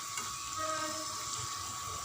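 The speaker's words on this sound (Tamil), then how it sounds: "இந்த மிளகு, ஜீரகம், சுக்கு இதெல்லாமே கருகாமல் இருக்கிறதுக்காக நம்ம மீடியம் ஃப்ளேம்லேயே வச்சு குக் பண்ணுறோம், பொரிக்கிறோம்" Pepper, cumin and dry ginger frying in a pan over a medium flame, a steady close sizzle with faint stirring scrapes throughout and no talking.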